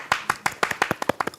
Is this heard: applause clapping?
yes